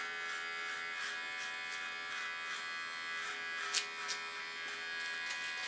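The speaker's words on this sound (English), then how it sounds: "Go in with my clipper, follow the natural lines." A steady, close electric hair clipper buzzes continuously while cutting a short asymmetrical pixie haircut, with a few brief brighter snips where the blades bite into hair; no talking.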